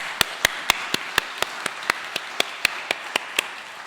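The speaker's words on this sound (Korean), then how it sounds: "우리 모두 하나님께 감사의 박수를 한번 같이 쳐볼까요?" Steady, evenly spaced claps ring out one after another in a quiet church worship service, about sixteen crisp, sharp strikes in unison over a few seconds with no talking.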